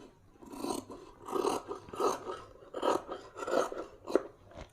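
Scissors cut through blouse fabric in a series of rhythmic, raspy snips, about six close strokes with short pauses between them, quiet and without talking.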